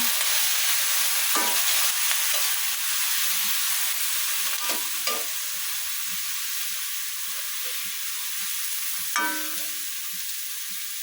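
Beef sizzles and fries in a hot pan as it is stirred, a steady hiss with a few scraping clinks of a utensil, moderately close and without talk.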